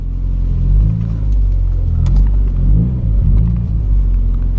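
A Mazda MX5 drives along with a low, steady engine rumble heard from inside the car, gently rising and falling with throttle and no talking.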